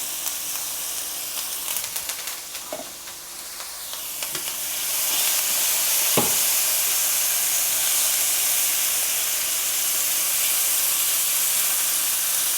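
Shrimp frying in a pan with fresh rosemary and thyme, a few light clinks and stirs before a loud, steady sizzling hiss swells up and holds, with a single sharp tap partway through.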